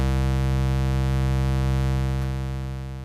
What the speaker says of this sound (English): or suboctave square wave.